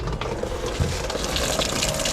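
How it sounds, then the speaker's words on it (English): Water rushes steadily from a tap into a portable washing machine being filled to wash detailing polishing pads and towels, a constant broadband gush with no speech. "I come right here, turn the water on."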